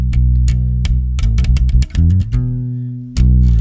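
Bass guitar plays a quick melodic run in a song's solo, loud and close, with plucked notes in an uneven rhythm before settling on a held tone and a final attack.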